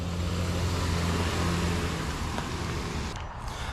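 Cars drive past a crowded festival site as a steady, close engine rumble with a low hum. The sound eases slightly toward the end.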